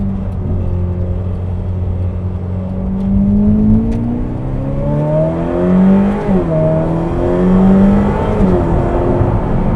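Ferrari 488 Pista engine pulling hard from inside the cabin, a steady drone climbing in pitch through the gears with quick, clean upshifts that briefly drop the note before it rises again, loud and continuous with no talk.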